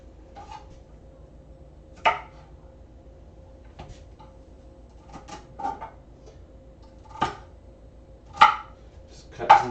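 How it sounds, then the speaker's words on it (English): A knife chops celery sticks on a cutting board, sounding as sparse, separate sharp knocks spaced a second or two apart and heard close and alone against a quiet kitchen background. "Just cut some celery sticks"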